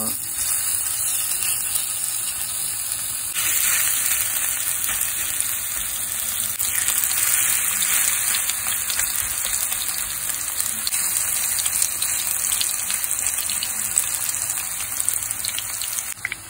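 Zucchini fritters, okoy-style, fry in a pan with a steady, dense hiss and sizzle that runs unbroken throughout, close and fairly loud, with faint crackles and no talking.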